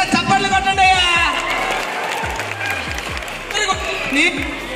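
An audience at a Telugu community Dussehra celebration in Abu Dhabi claps in bursts, with some low thumps. Loud talk and voices sit prominently over the applause throughout.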